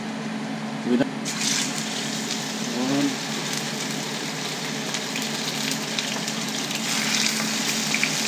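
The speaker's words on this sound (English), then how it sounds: "make sure the pan is really hot before you put the uh, salmon in" Sockeye salmon sizzles steadily in a very hot pan, a close, even crackling hiss that runs throughout, with a couple of brief spoken sounds near the start.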